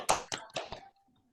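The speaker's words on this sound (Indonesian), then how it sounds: "Tepuk tangan untuk semuanya" A small class claps together in four loose, separate bursts of hand claps, close and fairly loud, then falls quiet.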